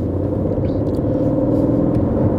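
An Aston Martin Vantage engine, shared with the Mercedes-AMG GT, drones steadily while driving in its comfort settings, a loud continuous low rumble heard from inside the car with no talk.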